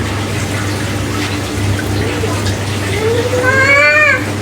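A pet cat gives a single rising-and-falling meow near the end, close and clear over running tap water and a low household hum.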